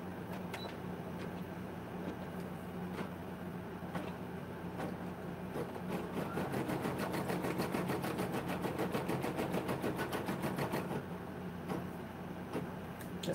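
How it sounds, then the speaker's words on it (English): An embroidery machine stitches an outline around a magnet with a fast, even, rhythmic needle clatter. The motor hums quietly beneath it and the stitching grows a little louder in the middle. "And now it's going to stitch out around the magnet."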